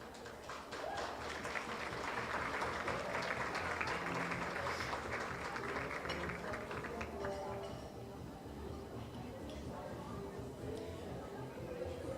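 Audience applause at a charity fashion show and luncheon, a broad steady clatter of clapping filling the room for the whole stretch, easing slightly toward the end, with crowd chatter mixed in.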